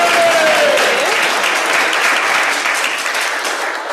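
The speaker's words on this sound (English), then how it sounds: "Could we please have a round of applause to thank Reverend Morgan for doing our service today?" A Unitarian Universalist congregation applauds during a Sunday service, a dense, sustained wash of many hands clapping at once, loud and even, tapering only slightly toward the end.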